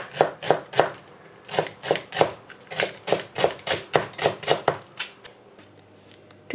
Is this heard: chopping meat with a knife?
yes